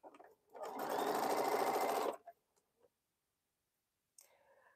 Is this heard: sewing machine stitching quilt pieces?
yes